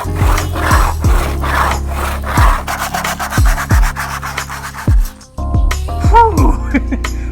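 A wire brush scrapes old foam off a Honda Civic headliner board outdoors in a yard, giving repeated rough rasping strokes, loud and close, with some low background rumble.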